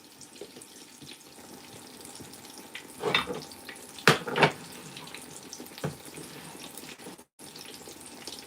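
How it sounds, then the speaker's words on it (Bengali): Oil sizzles and crackles steadily as eggplant slices deep fry, with a few louder bursts of spitting and clatter partway through. "ডিপ ফ্রাই করতে চাইলেও এটা নিয়ে মোটামুটি ডিপ ফ্রাই করতেছি"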